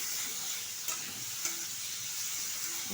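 Bitter gourd, eggplant and greens frying in oil, a steady, even sizzle that continues without a break, heard fairly close and alone, with faint stirring ticks scattered through it.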